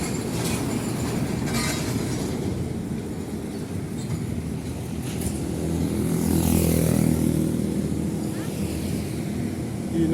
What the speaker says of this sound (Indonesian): Ini yang besar-besar kontainer.